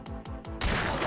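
Three sharp, evenly spaced gunshots from the Hunt: Showdown game, each with a booming tail, followed by a louder, denser blast and lingering rumble; no talking.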